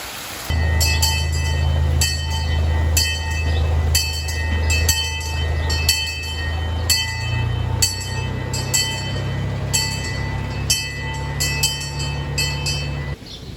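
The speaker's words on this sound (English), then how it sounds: "hopefully the train comes soon" A train arriving at Indiana Beach amusement park rumbles and hums steadily nearby, with rhythmic metallic clicking and a high whine over a low engine drone throughout.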